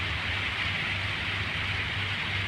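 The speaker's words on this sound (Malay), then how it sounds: "tapi hujannya tak lebat lah" Light midday rain falling steadily upriver in a rural area near Kuching, a soft continuous hiss with a low rumble underneath, even and unbroken throughout with no voices.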